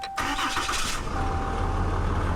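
A truck engine cranks and catches, settling into a rough, loud idle up close within a couple of seconds.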